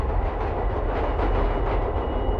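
Subway trains rumble loudly and steadily, with a deep low roar and faint clickety-clack of wheels on rails throughout, no voices.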